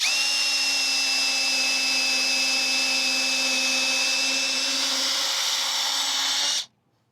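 A steady, high-pitched power drill fitted with a 1/4-inch auger bit whines continuously for several seconds at a constant speed, close and loud, then cuts off abruptly.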